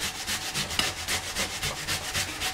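Beetroot being grated by hand on a grater, a steady rhythmic scraping with regular strokes about four per second, close and fairly quiet with no talking.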